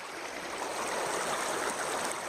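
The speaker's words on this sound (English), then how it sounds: "And Oro is on the river at Golden Jim Grubbin, Cleveland, Georgia" Steady rushing of a river flowing at a gold and gem digging spot in Cleveland, Georgia, a continuous broad wash of water noise with no talking, held at a low, even level throughout.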